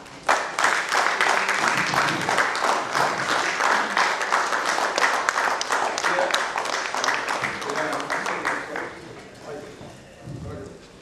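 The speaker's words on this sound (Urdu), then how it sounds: "یہ زوردار تالیاں یہ بتا رہی ہیں" Loud, sustained applause from a crowded audience at a mushaira in a hall at JNU, dense rapid clapping that holds steady for several seconds before thinning out, with speech underneath.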